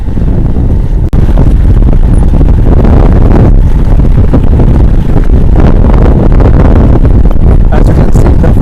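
Heavy, constant wind buffeting roars across the microphone during an outdoor bike ride in pleasant weather, loud and continuous with a low rumble beneath.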